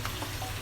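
Kashmiri Rogan Josh with curd sizzles and crackles in a hot pan, a brief steady frying hiss close up with no talk.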